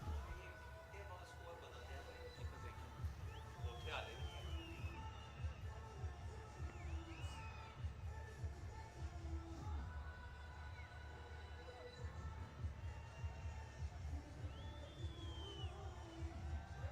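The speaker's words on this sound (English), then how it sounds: "Crowd's really enjoying themselves" A crowd at a Champions Cup 2024 cricket match between Nurpur Lions and UMT Markhors, heard as a steady distant roar with drum-like thumps and scattered whistles, under continuous commentary.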